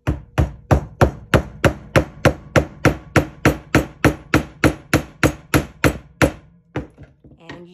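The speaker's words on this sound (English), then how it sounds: "We're going to take our handy dandy little hammer." A small hammer drives a nail into wood for a string art board, about twenty sharp, evenly spaced strikes in a fast steady rhythm, close and loud, ending with a few softer, irregular taps.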